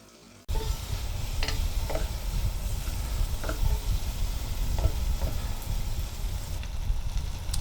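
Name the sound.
chilli flakes and peppers frying in a pan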